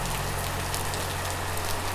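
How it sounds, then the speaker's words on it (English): Steady heavy rain downpour, a dense, even hiss of rain on surfaces with a low constant hum underneath, no voices. "a steady, relentless downpour that made the road slick and the air feel heavier"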